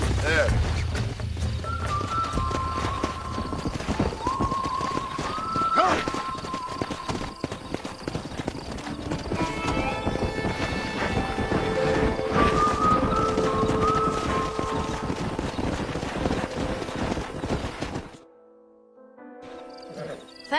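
Horse hooves clip-clop in Red Dead Redemption, with steady trotting beats under game music and talking voices, stopping abruptly near the end.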